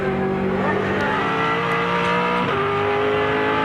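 A V8 Supercar engine at Phillip Island during a 2007 championship race, a loud close-up roar climbing in pitch, dropping briefly at a quick gear change, then pulling hard again.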